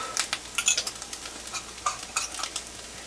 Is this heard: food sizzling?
yes